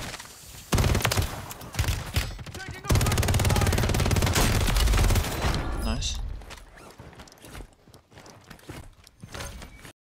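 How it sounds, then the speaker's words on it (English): Gunfire in Call of Duty Warzone (Modern Warfare III, WSP Swarm build) during long-range fighting, with dense bursts of shots filling the first half and scattered fainter shots later, while players talk over the action. "I'm shooting people from far range"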